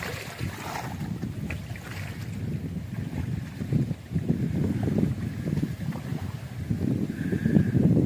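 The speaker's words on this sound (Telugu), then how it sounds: "అవిగోనండి బోటు, మరబోట్లు కూడా తిరుగుతున్నాయి చూడండి అక్కడ మీరు" Motorboats on the flooded Krishna river, a steady low engine drone mixed with wind buffeting the microphone and water wash, continuous throughout with no one speaking.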